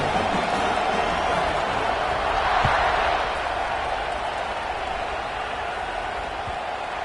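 A football stadium crowd roars steadily before a kickoff late in the final period of a close game, a dense wall of cheering that swells briefly and then holds at a loud, even level throughout.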